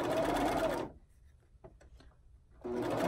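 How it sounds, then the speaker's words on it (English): A sewing machine stitches the front lining of a swimsuit in two loud, close bursts of steady motor whir with a quiet pause between them. "I'm going to start by sewing this way because this is the way that allows me to sew on the lining."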